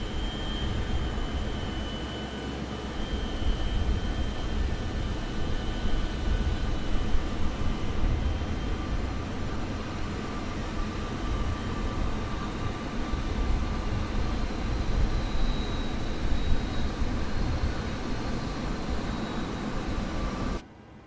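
Airliner engines running steadily after start in Microsoft Flight Simulator 2020 during a night IFR flight from Nantes to Montpellier, a continuous broad roar and hum with faint whining tones, unchanging and close, no talk.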